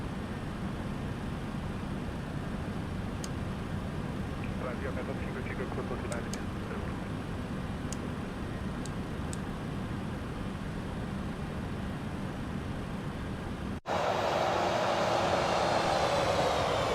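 Steady broadband roar of MD-11 jet engines climbing out in a flight simulator, continuous and fairly loud, with a voice speaking over it before the tone shifts to a brighter, harsher engine wash near the end.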